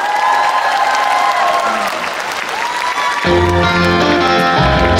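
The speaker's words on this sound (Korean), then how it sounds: "마지막 곡이니까 박수 한 번 더 많이 쳐보실까요?" Concert audience at the opening performance of a Pumba festival claps and cheers loudly and steadily, a dense wash of applause with a sung or amplified melody rising over it in the second half.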